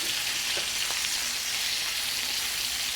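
Chicken cutlets fry in a hot pan for chicken piccata, a steady close hissing sizzle with faint crackles throughout, no voices.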